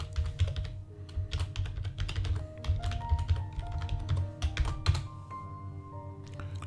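Fingers typing a password on a computer keyboard, a quick uneven run of soft clicking keystrokes, close and fairly quiet, alone without speech.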